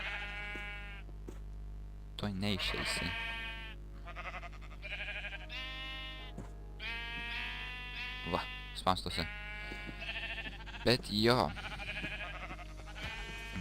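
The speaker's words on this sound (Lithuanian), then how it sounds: "Ir dar viena avis išėjo." Sheep in a Minecraft survival game bleat in repeated short wavering calls, several in a row, clear and close over a low steady hum, with a person talking in between.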